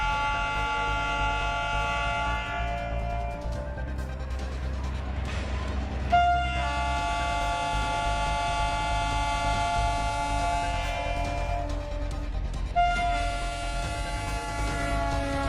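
The Gonda Express from Gorakhpur passes with a sustained, loud tonal horn blast sounding twice, each held for several seconds over a low, steady rumble of the moving train.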